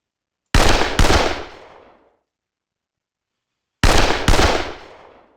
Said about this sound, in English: we are going to volley fire into this hex.